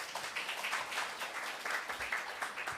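Conference audience applauding at a Korean e-learning event, steady dense clapping from a large crowd filling the hall, continuous and even with slight swells throughout.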